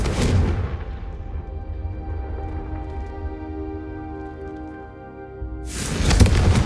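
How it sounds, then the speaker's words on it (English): Confringo fire spells cast in the Hogwarts Legacy video game burst as loud, booming blasts at the start and end, with a long ringing, tonal decay fading between the two explosions. "Both have their uses, but I think you'll find that a Confringo cast travels a bit farther"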